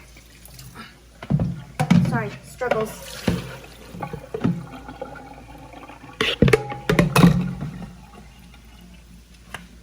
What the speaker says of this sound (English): Now we have to drain the water from the Pansit Canton